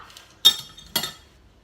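Two sharp metallic clicks of a pizza cutter pressing through homemade crackers on a hard surface, spaced about half a second apart in a quiet room.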